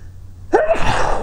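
After a moment of near silence, a single sudden sneeze bursts out close to the microphone, loud and explosive, trailing off into breath.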